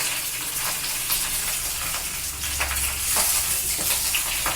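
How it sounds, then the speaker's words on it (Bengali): Cauliflower leaves and ginger sizzle loudly in hot oil in a pan, a steady close frying hiss broken by scraping stirs, with no talking. "আদাটাকে একটু নেড়ে নিলাম তেলেতে নিয়ে এই কপির পাতাগুলো এর মধ্যে দিয়ে দিই"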